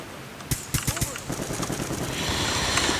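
Rapid bursts of automatic turret fire in a Black Ops multiplayer match crack out in a quick cluster, then give way to a rising wash of game noise and distant shots, with players talking over it.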